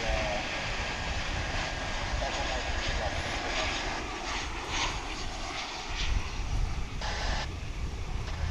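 A plane arriving at DFW airport from San Jose roars steadily throughout, a broad continuous engine rumble with wind noise on an outdoor microphone and no pauses.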